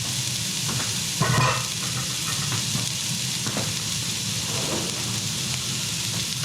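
Chopped onions sizzle and fry in a hot pan for a home-cooked not-stuffed-pepper meal, a steady close crackling hiss with occasional louder spits and a brief stir partway through, no voices.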